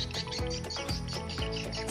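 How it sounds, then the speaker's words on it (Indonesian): Swiftlets chirp near their nests beside green rice fields, a quick series of short, bright calls repeating in close succession, faint and fairly distant. "Jadi kicauan suara burung waletnya sangat indah."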